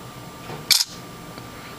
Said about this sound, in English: let me go over these shutter noises really quick